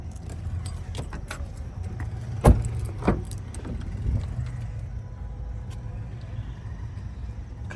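Keys for a 2017 Mahindra XUV500 W6 AMT jangle close by in brief metallic clinks, with a couple of sharper knocks over a low rumbling background.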